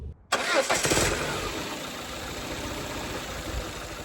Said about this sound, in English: Now she's misfiring. Now she sounds like a bag of spanners.